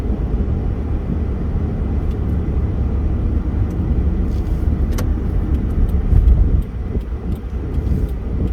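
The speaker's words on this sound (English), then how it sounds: "Pretty good amount of traffic out here for almost 5 o'clock on a Saturday evening" Steady car traffic on the Las Vegas Strip on a Saturday evening, a dense continuous rumble of passing vehicles and engines heard from close by, with occasional brief clicks and swells.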